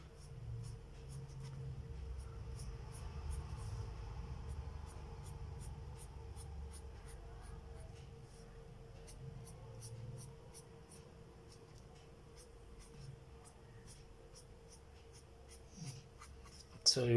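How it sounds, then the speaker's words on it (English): A pencil draws a circle on paper for a technical drawing of a 50 mm diameter circular plane, a soft continuous scratching that runs steadily throughout, close and quiet, with a faint steady hum underneath. "Draw a circle."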